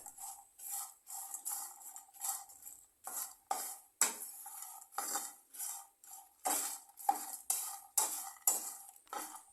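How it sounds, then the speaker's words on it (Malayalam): Jackfruit seeds dry-roasting in a pan with no oil, stirred with a utensil that scrapes and clinks against the metal in a steady run of sharp bursts, close and fairly loud, with no talk. "നമ്മൾ എണ്ണയൊന്നും ഒഴിക്കാതാണല്ലോ വറുത്തെടുക്കുന്നത്."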